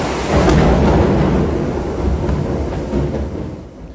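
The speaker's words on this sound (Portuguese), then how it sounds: "Na capital havia previsão de chuva, mas os raios e trovões surpreenderam." Thunder rolls as a deep, sustained rumble during an intense rainstorm in Aracaju, loud and close, with heavy rain hissing steadily underneath and no voices.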